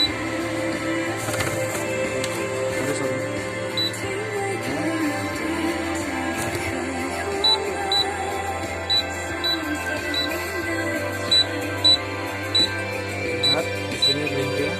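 Key presses on an Asus X455L laptop keyboard make small sharp clicks under steady background noise, then a run of short, evenly spaced beeps follows each keystroke during a keyboard test.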